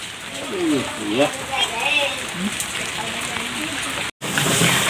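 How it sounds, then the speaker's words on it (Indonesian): Heavy rain pouring steadily on a house renovation site, a constant hiss of falling water with a person speaking over it for most of the time. "dengan cuaca hujan terus mengguyur di lokasi"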